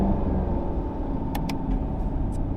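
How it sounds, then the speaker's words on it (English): A 2022 Chevrolet Camaro LT1 with its factory stock exhaust idles with a deep, loud, rumbling burble up close, broken by a few sharp crackling pops toward the end. "this car does have a crazy stock burble, so listen to this"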